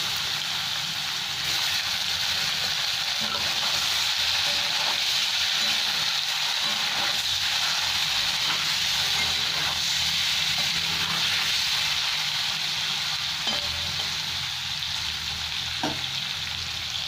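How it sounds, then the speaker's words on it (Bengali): Paneer pieces coated with salt and turmeric fry in hot oil, a steady, close sizzle and crackle that runs unbroken throughout with a few faint clicks, no voices. "এবার আমি পনিরগুলো ভেজে নিচ্ছি।"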